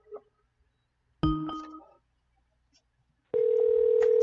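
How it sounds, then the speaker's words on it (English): A couple of brief electronic tones, then a steady phone ringing tone begins and holds, close and clear in an otherwise quiet room. "It's ringing."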